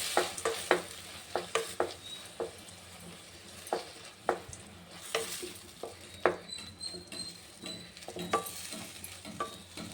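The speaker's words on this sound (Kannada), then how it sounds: "ಟೊಮೊಟೊ ಚೆನ್ನಾಗಿ ಫ್ರೈ ಆಗಬೇಕು." Tomatoes frying in a pan for tomato bele bath, a steady close sizzle broken by repeated sharp scraping and clacking strokes as a spoon stirs them, with no voices.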